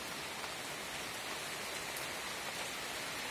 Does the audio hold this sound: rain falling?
yes